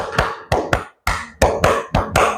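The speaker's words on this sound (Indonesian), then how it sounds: "Tepuk 1, 2, 3." Hands clap in a quick three-beat pattern, repeated twice with a short pause between, sharp and close in a classroom-style group exercise.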